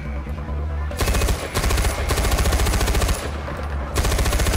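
Rapid automatic gunfire from Far Cry 4 rattles in two sustained bursts, loud and close, with a brief lull near the one-second mark and another just before the four-second mark.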